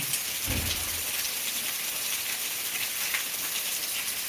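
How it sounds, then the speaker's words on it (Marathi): Steady, dense heavy rain hisses continuously in Beed, with a faint low rumble briefly underneath. "खूप भयानक परिस्थिती सध्या पावसाची निर्माण झालेली आहे बीडमध्ये"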